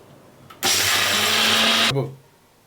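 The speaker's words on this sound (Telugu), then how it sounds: "ఒకసారి మనం మిక్సీ పట్టుకుందాం" A mixer grinder runs for a single loud burst of just over a second, grinding peanuts with salt for chutney, whining and buzzing at close range before spinning down.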